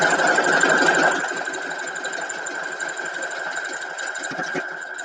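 A sewing machine stitches a vintage-style quilt block, a steady mechanical whir with fast needle ticking that drops in loudness after the first second and keeps running alone.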